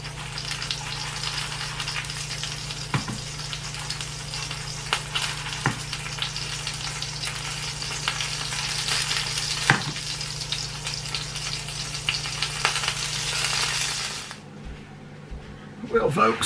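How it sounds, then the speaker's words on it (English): Morel mushrooms dipped in egg batter deep frying in hot oil, a dense, continuous close sizzle with occasional pops and clinks, settling quieter near the end. "Deep fried morels."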